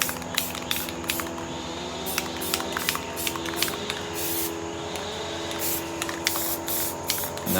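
Aerosol spray paint cans hissing onto paper for spray paint art, a steady near hiss broken by repeated short bursts throughout.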